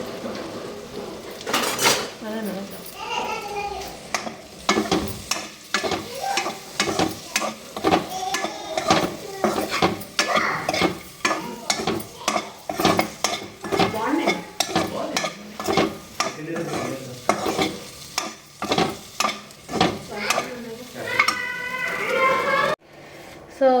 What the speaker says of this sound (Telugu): బటర్ వేసి ఆయిల్ వేసేసి చెక్క లవంగం ఇలాచి ఇంకా ఆనియన్స్ పచ్చిమిర్చి కరివేపాకు వేసి వేయించుతున్నాను